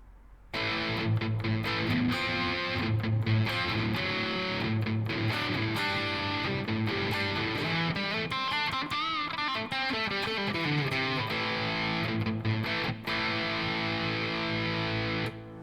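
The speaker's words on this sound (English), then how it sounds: "heavier distortion, a little more high gain." Electric guitar, a Hadean EG-491 Telecaster-style, with heavy high-gain distortion, sustained thick chords and ringing notes played continuously and loudly, with no talking.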